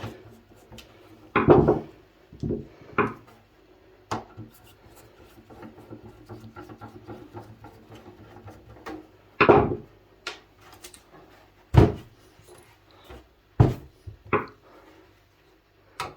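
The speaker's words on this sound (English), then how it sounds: "So just a matter of quickly just removing these screws." Screws being removed from the casing of a digital video recorder during a teardown: scattered short scraping, rasping and metallic clicks with quiet gaps between them, close up, with no speech.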